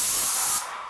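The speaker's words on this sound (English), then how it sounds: "uniform spray pattern, not too much material, not too much overspray." A paint sprayer fires at 160 bar, laying down a uniform spray pattern; there is one loud, close, steady burst of airy hiss lasting under a second, then it cuts off abruptly.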